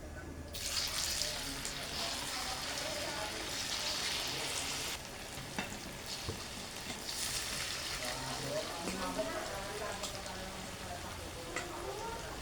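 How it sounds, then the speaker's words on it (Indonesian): Tofu and cabbage fry in hot oil with a continuous, fairly loud crackling sizzle, the spitting bubbling shifting slightly partway through. "Kita goreng lagi."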